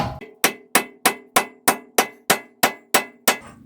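Hammer striking a nut threaded onto the rear wheel hub of a Mazda RX7 FD3S during wheel bearing removal, eleven sharp metallic blows at a steady rhythm, loud and close with ringing decay, no talk.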